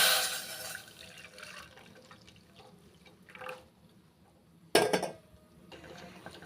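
Pearl millet milk is poured into a vessel, heard as a soft trickle at first and then a short, louder splash with some faint liquid sounds after it.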